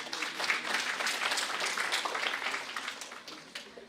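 Sustained audience applause at an Indo-Japan international academic conference, a dense steady wash of many hands clapping throughout, fairly loud, easing slightly toward the end.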